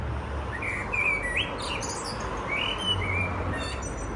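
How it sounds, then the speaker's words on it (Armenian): Small birds chirping in the evening around seven o'clock, several bright short calls repeating at intervals over a steady low background hum, moderately close, with no talk. "Էս ինչ ծիտիկ է։"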